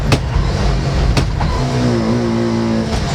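A Bajaj Qute quadricycle's engine revving up, a loud buzzy motor note climbing in pitch with a couple of sharp clicks or knocks, close and continuous with no speech.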